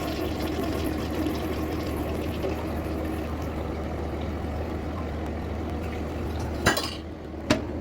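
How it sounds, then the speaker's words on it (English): A freshly cleaned bathroom toilet flushes with a steady, close rush of water lasting several seconds, ending with a couple of small clunks. "I'm gonna flush it."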